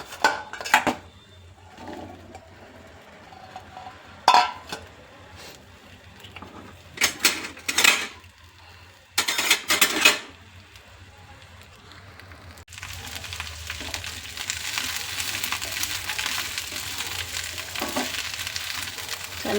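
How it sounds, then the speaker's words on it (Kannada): Okra tossed into a little oil on a hot tava and stir-fried, with scattered clanks and scrapes of a spatula against the pan, then a steady, louder sizzle settling in for the last stretch. "ಈಗ ಬೆಂಡೆಕಾಯಿ ಎಲ್ಲ ಇದರಲ್ಲಿ ಹಾಕ್ಕೊಬಿಡೋಣ. ಹಾಕ್ಕೊಂಡು ಚೆನ್ನಾಗಿ ಹುರ್ಕೊಳ್ಳೋಣ."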